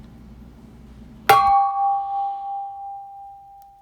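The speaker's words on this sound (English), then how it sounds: "a graphic representation of the sound when Thor headbutts my water bottle" A dog named Thor headbutts a water bottle, giving one sharp knock that rings into a clear, sustained tone. The ring decays slowly over a few seconds, with a faint low background hum before the strike.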